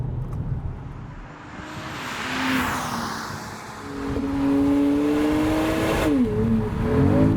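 A 2025 BMW X3 M50's engine is heard from inside the cabin, rising in a loud, smooth revving tone as it accelerates, holding a strong drone before shifting pitch near the end.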